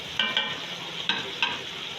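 Beef pieces frying in a garlic-ginger masala, a steady close sizzle broken by a few sharp scraping stirs of a spoon against the pot, with no voices.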